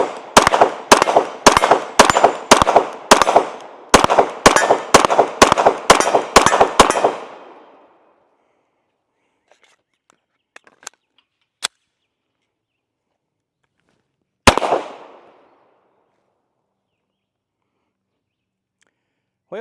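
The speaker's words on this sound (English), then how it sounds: "Let's go ahead and take a few shots." A Glock 17L Gen 5 pistol fires about fifteen sharp, loud outdoor shots in a rapid, fairly even string, each with a short echoing tail, then silence broken by faint clicks and one more shot.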